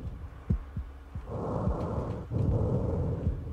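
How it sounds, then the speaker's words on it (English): Heavy, ragged breathing in the survival horror game Silent Hill 2, slow rasping inhales and exhales with low thumping pulses, faint at first and then swelling louder and closer. "the heavy breathing, that's not cool"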